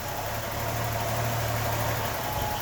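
A naturally aspirated 1981 Datsun 280ZX engine idles at a steady, low rumble with a faint rough edge, heard continuously and fairly close without any talking.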